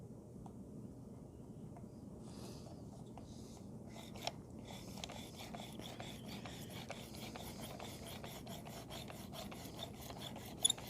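A knife blade is drawn across the abrasive stone of a Work Sharp Precision Adjust sharpener, giving quiet, close, rhythmic rasping strokes that start sparse and settle into a steady back-and-forth scraping, alone without talk.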